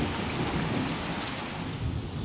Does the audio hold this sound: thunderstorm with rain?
yes